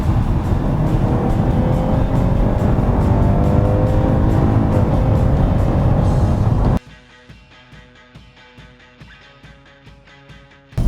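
A BMW 530e plug-in hybrid accelerates hard under kickdown as its engine fires up, producing a loud sustained drone with rising tones, then dropping abruptly to a quieter cabin hum.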